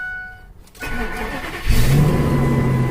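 A Ford Excursion with a 7.3 diesel cranks briefly and then catches, settling into a loud, close, steady rumbling idle with a clear low drone.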